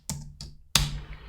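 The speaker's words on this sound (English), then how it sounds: "So I'm going to type 453 in here." Three crisp keystrokes on a computer keyboard as numbers are entered, two light taps followed by a louder final key press, close and alone.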